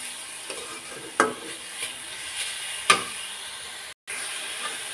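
Coconut filling for chingri pitha fries in a pan under steady stirring, a continuous sizzle and hiss with a few sharper scraping clicks and one brief dropout near the end.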